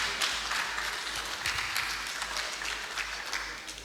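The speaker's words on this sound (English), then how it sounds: "we can make the applause a bit louder" Applause at a press conference on Nigeria's 65th independence anniversary, a continuous wash of clapping from a crowd, moderately loud and steady, with a low hum underneath.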